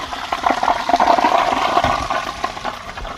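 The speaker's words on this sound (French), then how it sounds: "une fois que la chasse d'eau est terminée" Loud rushing water of a flush in a retractable toilet set into a wall, its bowl tilted at 45 degrees, with a steady gurgling stream for several seconds and no talking.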